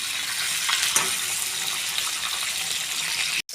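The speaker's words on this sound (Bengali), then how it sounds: "এটা একটু উল্টে ভেজে নেব।" A steady hiss of oil rises from a flipped, leaf-wrapped hilsa paturi frying in a kadai, with a brief clatter near the start and a sudden cut just before the end.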